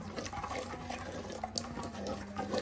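Water splashes and trickles into a cooking pot, a close, steady wet pour with small gurgles throughout.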